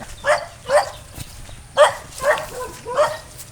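A dog barks five times at a moderate distance, in two pairs and a single bark, with quiet pauses between.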